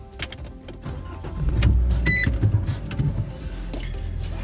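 Inside a car before a test drive, a door and seat rustle and small clicks of keys and controls sound up close, then a low engine hum rises and holds steady.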